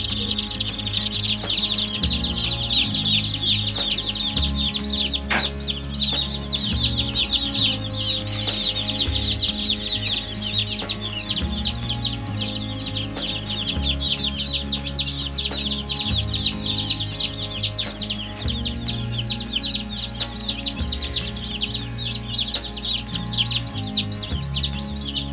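A new batch of young meat chickens cheeps and clucks constantly, a dense chorus of high peeping close by, over a steady low droning hum.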